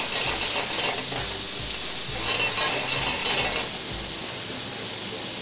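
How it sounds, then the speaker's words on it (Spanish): Onions hit a hot pan mid-flambé, giving a steady, loud, close sizzle with a soft stirring rustle running throughout and no voices. "Se agrega un poco de cebolla. Se sigue flambeando."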